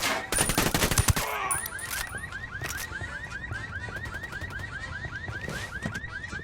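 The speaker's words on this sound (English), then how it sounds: "Opening fire." Automatic gunfire from the video game Ghost Recon Wildlands: a dense, loud burst of rapid shots up front, then a steady run of quick, evenly spaced warbling electronic chirps that keeps going to the end.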